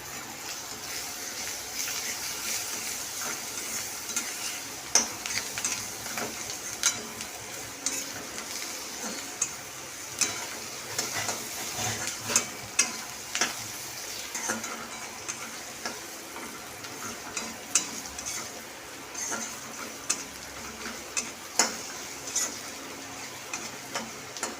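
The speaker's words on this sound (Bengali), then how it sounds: "একটু হলুদ দিয়ে নাড়ছি" Greens being stirred with turmeric in a frying pan: steady soft sizzle with scattered scraping ticks of a utensil against the pan, close and moderately quiet, no talking.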